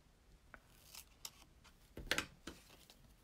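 Scissors snip through paper pieces in a quiet crafting setting, a few soft, separate cuts with a sharper cluster near the end, close by and faint, with no voices.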